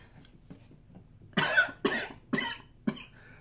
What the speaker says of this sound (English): that cough really threw me off